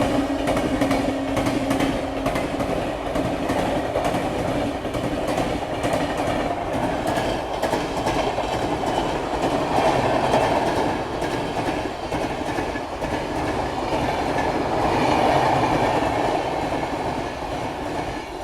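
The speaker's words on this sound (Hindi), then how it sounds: "अब यहाँ से अपनी ट्रेन जो है वो DFC वाली लाइन में शिफ्ट होने वाली है" A passenger train runs at night on a dedicated freight corridor line, its steady loud rumble heard from on board with rhythmic clickety-clack of wheels over rail joints and faint squeals throughout.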